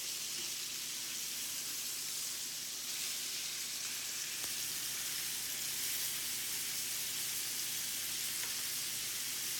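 Thick steaks sear in a hot pan just after being flipped, giving a steady, loud sizzle and crackle that runs without a break. No one speaks.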